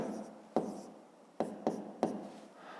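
A pen writes on paper during a fifth-grade maths exercise, quiet scratchy strokes broken by several sharp taps as the pen touches down, close and faint.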